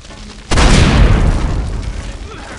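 A grenade blasts in the zombie shooter game Land of the Dead: one sudden, loud boom that cuts in sharply, then a long, heavy rumble that slowly fades over the next two seconds.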